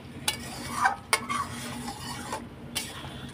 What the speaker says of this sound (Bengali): এখন আমি এগুলো মশলার সাথে এই দেখো মিলিয়ে দিলাম